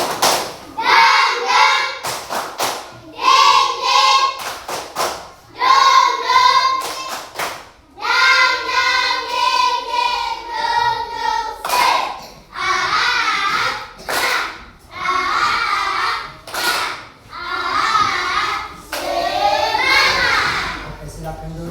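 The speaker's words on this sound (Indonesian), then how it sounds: "Semua bersama-sama tepuk semangat" A school class doing tepuk semangat together, bursts of sharp unison claps alternating with children chanting in rhythm, repeated in short phrases for about twenty seconds.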